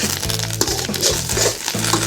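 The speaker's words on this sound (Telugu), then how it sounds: "ఫ్రై చేసుకుందాం." Curry leaves and green chillies for Andhra-style green chilli chicken fry in hot oil in a pan, giving a steady close sizzle with repeated low scraping strokes of stirring throughout.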